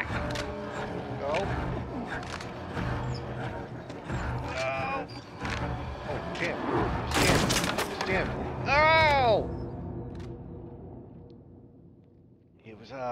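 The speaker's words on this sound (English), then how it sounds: "he saw you and now he's shooting me" Enemy gunfire in the Little Nightmares 2 video game, scattered loud shots and impacts mixed with game sounds and a rising whistling tone, with people talking over it.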